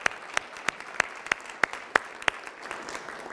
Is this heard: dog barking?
no